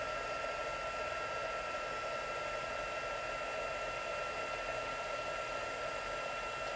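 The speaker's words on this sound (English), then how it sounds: "now let's get our heat tool, and we'll hold it over one spot." A heat embossing tool blows hot air over one spot of a stamped card, a steady, even whooshing hum that runs unbroken without speech.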